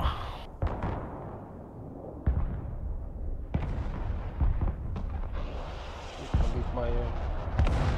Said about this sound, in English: I don't know where that artillery's firing from.